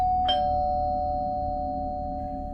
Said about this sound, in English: I was about to crawl into bed when my doorbell rang.